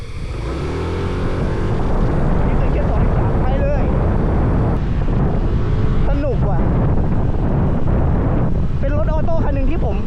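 A 2025 Yamaha NMAX scooter pulls away under twisted throttle, its engine and CVT drone loud and steady beneath heavy wind rush from riding, up close throughout.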